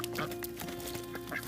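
Homestead ducks quack in short, raspy bursts over a steady background hum, fairly faint and clustered closely together within a brief moment.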